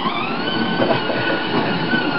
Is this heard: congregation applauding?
no